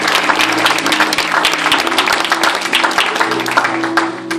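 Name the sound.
congregation applauding in church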